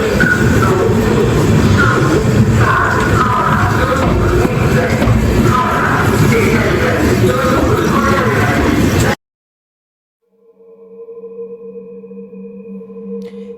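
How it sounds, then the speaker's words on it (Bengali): Passenger train pulling into Dhanbad Junction, a steady loud rumble of carriages and broadband rail noise that cuts off abruptly, followed by quieter tonal hum and background murmur. "আমাদের ট্রেন এখন ধানবাদ জংশন ঢুকছে"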